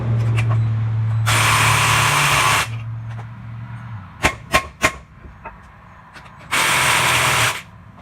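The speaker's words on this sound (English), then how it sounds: "Running out of juice on the impact, but it's not loosening up after I hit it anymore" On a 1996 Econoline van, an impact wrench hammers at a ball joint in two loud, sustained bursts. Between them come a few sharp metallic knocks and quieter tool sounds, all close up.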